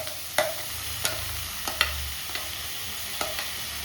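Tomato tossed into a hot frying pan while cooking hagalkai fry, with a steady close sizzle and several sharp scrapes and clacks of a stirring spoon against the pan at irregular intervals, no voices.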